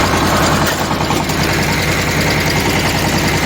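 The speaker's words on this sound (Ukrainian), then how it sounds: "Ось він знову, він знову горне з собою землю. І трактор пре на рівному слідові." A mini tractor converted into a bulldozer pushes soil along a level track, its engine a steady, close, loud throbbing drone with a heavy low rumble and constant vibration throughout, no voices over it.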